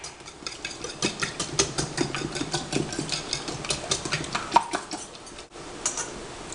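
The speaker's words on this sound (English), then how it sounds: "Whisk up some more." Eggs whisked with a few pepper flakes in a bowl, the whisk clicking in a quick, steady rhythm close by, with no talking.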